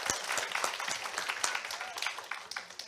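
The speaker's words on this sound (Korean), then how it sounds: "우리 김현수 교수님과 박건일 학생, 현수정 학생에게 다시 한번 큰 박수 부탁드리겠습니다." Parents in an audience at a talk concert applaud the speakers, a professor and two students, with brisk, steady clapping filling the short stretch at moderate level.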